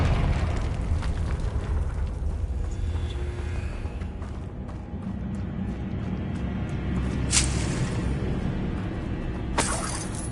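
Confringo fire spell from the Hogwarts Legacy video game: a dense, roaring blast of fiery rumble sustained throughout, with two sharp bright crackling bursts standing out late, loud and close.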